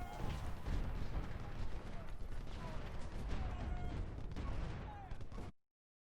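Artillery fire from a battle in the Civil War strategy game Ultimate General: Civil War, at Brandy Station: a dense, continuous roar of booming cannon volleys and crashing blasts that runs steadily, then stops abruptly near the end.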